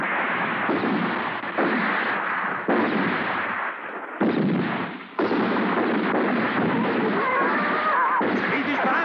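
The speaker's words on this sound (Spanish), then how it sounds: "¡Seguid disparando! ¡Disparad! ¡Disparad!" Rapid gunfire from an ambush in a western film, a dense, continuous barrage of loud shots and bursts filling the whole stretch with no pauses.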